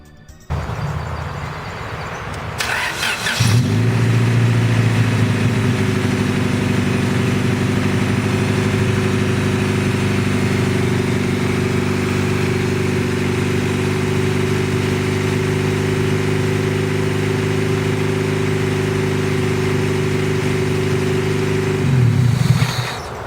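A car engine with a worn-out muffler, also leaking oil, idles steadily and loudly for about twenty seconds after a short startup, with a deep, rough, droning exhaust tone and no talking.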